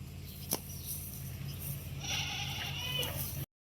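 A goat bleats in a wavering, drawn-out cry over a low steady hum, with a brief sharp knock just before.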